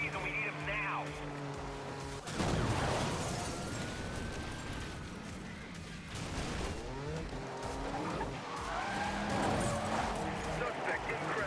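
Police pursuit in Need For Speed Most Wanted: a racing car's engine roars, tires squeal and skid, and a heavy crash hits, with game dispatch radio voices talking over the chase.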